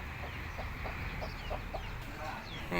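Farmyard chickens clucking in a series of short repeated calls over a steady outdoor background, with a possible voice faintly mixed in.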